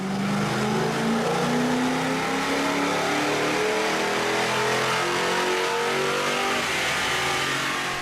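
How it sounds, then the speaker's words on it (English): A 2005-2009 Ford Mustang GT fitted with performance pulleys revs on a dyno, its engine note climbing steadily and loudly for the full stretch with no voices. "Now let's see how these pulleys do on the dyno."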